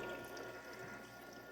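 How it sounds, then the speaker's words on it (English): Frigidaire ice maker pumping water, a faint continuous watery gurgle and flow with a low steady hum beneath, no talking. "It's pumping water and the compressor's on, so voila."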